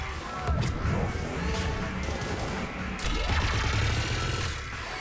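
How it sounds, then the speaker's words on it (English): Gunfire and crashing impacts in the Citadel DLC of Mass Effect 3 Legendary Edition, a sustained dense barrage of shots, blasts and debris noise filling the whole stretch, loud and close. "Just following the gunfire"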